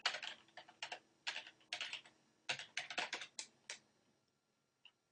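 Quick bursts of keystrokes on a computer keyboard, close and fairly quiet, come in short clattering runs with brief pauses between them, ending in one last isolated tap.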